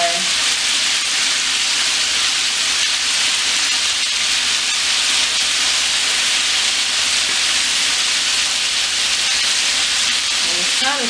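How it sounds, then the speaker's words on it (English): Chicken pieces semi deep frying in oil in a cast iron skillet give off a loud, steady sizzle and hiss that runs unbroken from start to finish. "And it's kind of semi deep frying."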